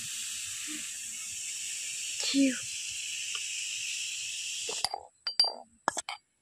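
A spoonful of homemade baking powder (Eno substitute) fizzes in water with a steady, close hiss that lasts several seconds, then stops abruptly and gives way to a few short, sharp handling noises.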